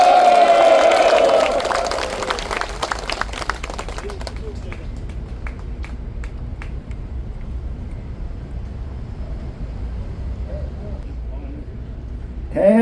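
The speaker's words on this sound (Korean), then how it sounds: "우리 모두를 위해서 같이 단결의 박수를 보내주시기" A crowd of Vietnam War veterans at an outdoor rally in Gwanghwamun, Seoul, breaks into sustained applause after a brief amplified voice, with many close claps blending into a steady roar of clapping.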